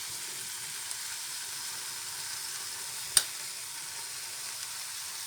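Basella greens cook in a pan with a faint, steady sizzle and one sharp knock partway through, quiet and alone.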